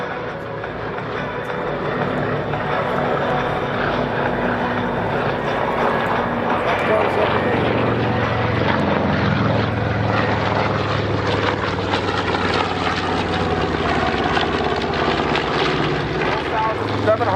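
A B-17 bomber flies over the Geneseo airshow, its piston propeller engines giving a loud, steady, broadband roar that swells slightly and holds for the whole stretch, with a voice faintly present beneath.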